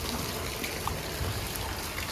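Rainwater flows through a flooded village after heavy rain, a steady close rush and trickle of running water that holds even and unbroken throughout.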